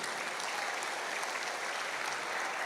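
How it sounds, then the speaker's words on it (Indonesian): An audience claps steadily in applause for the nation of Indonesia, a dense, even wash of many hands throughout with no voices over it. "Tepuk tangan untuk NKRI."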